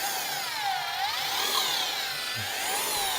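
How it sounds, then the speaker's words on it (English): Electric paddle mixer churning Fuga-Pave Flex grout with water, a continuous whining motor drone whose pitch rises and falls slightly as the speed shifts, close and steady with no talking. "We've got our paddle mixer there, and we'll just go ahead and start mixing."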